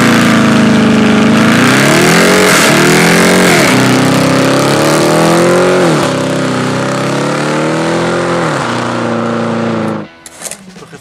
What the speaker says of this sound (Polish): Pierwsze upalenie Challengera.